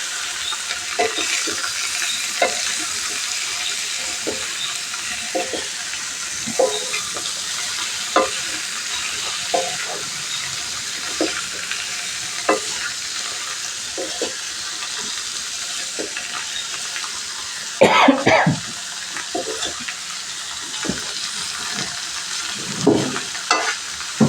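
Chicken pieces for varuval stir-fried in oil on a tawa over medium flame, with a steady sizzle and repeated scraping strokes of a spatula against the pan, plus one louder clatter near the end.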